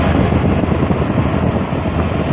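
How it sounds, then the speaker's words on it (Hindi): Cool wind blowing on a hillside at Nainital buffets the microphone in a loud, continuous rumbling roar that rises and falls slightly, with no voices. "मस्त हवा चल रही है।"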